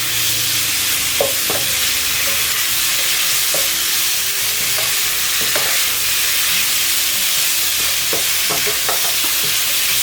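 Strips of fried fish ball being stir-fried in a pan for a yellow chili dish: a loud, continuous sizzle broken by repeated scraping and tossing clatters of the spatula, with no voices.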